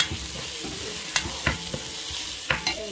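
Chili and garlic sizzle steadily in a hot pan, with a few sharp clinks of a utensil stirring them at close range.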